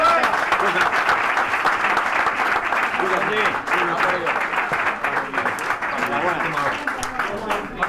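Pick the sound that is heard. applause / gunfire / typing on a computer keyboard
applause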